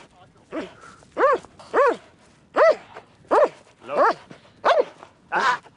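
A Belgian Malinois barks repeatedly in sharp, evenly spaced yelps, about eight loud, close barks in a steady rhythm, with little else around them.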